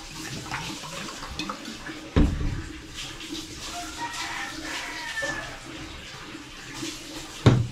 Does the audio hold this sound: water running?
yes